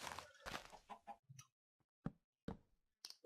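Chicken clucking in a Minecraft-style video game, a few short separate clucks and taps with quiet gaps between them, faint and close.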